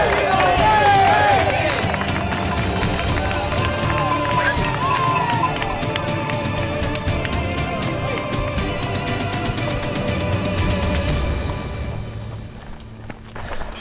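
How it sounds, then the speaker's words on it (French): Spectators cheer and clap as trail runner Guillaume Peretti sets off again during his GR20 record attempt, a dense, loud wash of crowd noise and applause with voices mixed in, fading toward the end. "Il repart sous les cris et les applaudissements."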